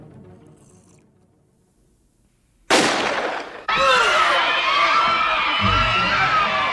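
A single sharp gunshot bursts out of near silence in the 1988 film Die Hard, as Gruber shoots Ellis, followed by a loud, sustained wash of dramatic score and scene noise.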